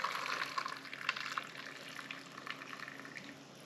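Water pours into a rabbit pie filling of browned meat in a pan, a soft, steady splashing trickle close by that eases toward the end, with no talking.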